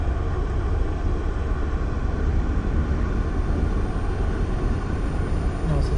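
The engines of a North American XB-70 in the FSX flight simulator roar as a dense, steady drone at high throttle, loud and continuous with no change across the stretch.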